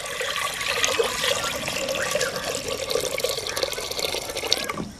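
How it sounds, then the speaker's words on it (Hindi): Water poured from above into a cooking pot (handi) sitting on a wood-fired clay stove splashes and gurgles in a continuous stream, fairly close and loud, then stops abruptly near the end, with no talking. "हंडी में डाल लेंगे पानी"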